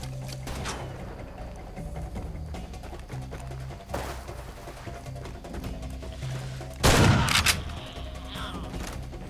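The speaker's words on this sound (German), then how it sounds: "Automatische Waffen." Automatic weapons fire in the Far Cry 2 game, scattered bursts of shots with one loud, close volley near the end over a low background drone.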